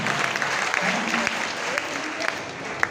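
A seated audience at a motivational talk claps together in a short, dense burst of applause that stays steady throughout, with a few sharper individual claps standing out near the end.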